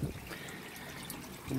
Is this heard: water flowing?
yes